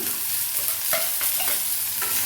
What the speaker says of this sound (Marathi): कांदा थोडा परतून घेते तेलावर